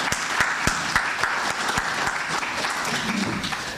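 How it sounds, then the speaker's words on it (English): An audience at an investiture ceremony in Jamaica gives a warm round of applause, steady close clapping from a modest crowd lasting a few seconds, with a few sharp individual claps standing out. "May we have a round of applause."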